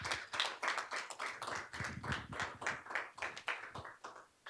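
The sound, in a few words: applause from audience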